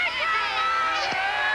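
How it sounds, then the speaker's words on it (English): Crowd on the Golden Gate Bridge pedestrian walkway at the 1987 50th anniversary celebration, a dense outdoor hubbub of many voices, steady and fairly loud throughout. "Still a crowd having a good time."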